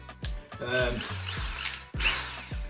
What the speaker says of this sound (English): You do not need to use a drill. I choose to because I just find it a lot easier.